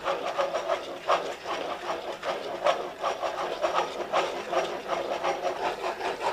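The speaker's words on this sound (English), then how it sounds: "I like to use a spoon to stir the initial ingredients up" A spoon stirs caramel frosting ingredients in a pot, making a continuous close scraping and rubbing sound with irregular strokes and no voices.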